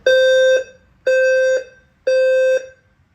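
A building fire alarm sounds during a system test with three loud, identical electronic honks of about half a second each, spaced evenly with short gaps.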